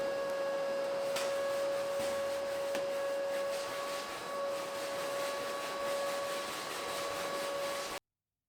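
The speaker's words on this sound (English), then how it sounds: "Hoovering the walls might seem like overkill" A vacuum cleaner hoovering dusty walls during a home renovation, a loud, steady motor roar with a constant whine that runs unbroken for several seconds and then cuts off abruptly.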